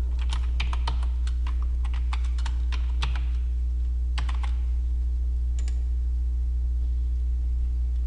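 Someone typing an ID and password on a computer keyboard: quick clusters of close, crisp key clicks, then a few isolated taps, over a constant low electrical hum.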